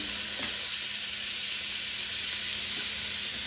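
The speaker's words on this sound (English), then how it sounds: "I'm mixing it, letting it get coated." Seasoned ham being stirred in a little oil, a steady moderate sizzle with occasional soft spoon knocks against the pan.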